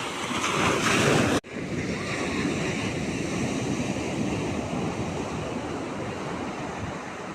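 Sea waves at the shore roll in with a loud, continuous wash of surf and wind noise, after a sudden brief dip near the start.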